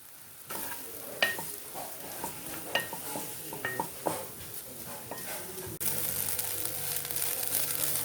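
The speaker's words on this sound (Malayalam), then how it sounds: "എന്നിട്ട് 2 കപ്പ് തേങ്ങ നമുക്ക് വറക്കണം" Grated coconut roasting in ghee while being stirred, a soft sizzle with intermittent scraping and tapping strokes, close by, ending in a louder, steadier hiss.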